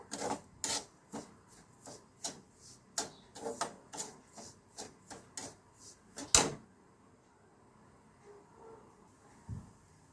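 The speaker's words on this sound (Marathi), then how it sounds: "तो व्यवस्थित भाजायचा आहे ब्राऊन कलरवरती। व्यवस्थित परतून घ्यायचा।" A spoon scrapes and stirs semolina being roasted in ghee in a pan until it browns, making a quick series of about a dozen rhythmic scratchy strokes, then a single sharp knock and near quiet.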